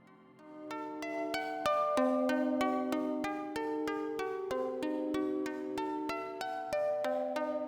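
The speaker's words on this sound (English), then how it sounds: "So what you're hearing right now is the synth doing its thing." A synthesizer plays a steady, rhythmic sequence of short plucked notes with a reverberant tail, bright and clear, with no talking.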